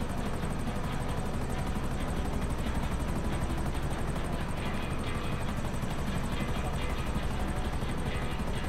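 Steady, loud rotor thrum and turbine whine of a Buzzard helicopter flying in a video game, carrying cargo, continuous and close throughout with no breaks.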